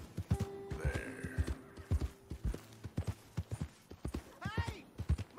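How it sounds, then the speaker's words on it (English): Horse hooves in the video game Red Dead Redemption clop in a steady, close rhythm throughout, with a short whinny partway through and soft tonal game sounds behind them. "Hey! My horse!"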